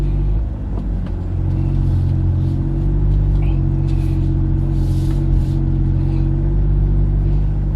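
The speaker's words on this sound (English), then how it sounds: "So let's drive on the interstate first." A car with a carbon fiber roof cruising on the interstate, giving a steady loud low engine and road rumble with constant cabin drone throughout.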